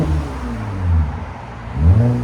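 A deep, throaty 3.5-litre V6 car engine with a muffler delete and factory resonator blips twice in quick succession, each rev swelling loudly over a rumbling idle, close by with an open, unmuffled tone.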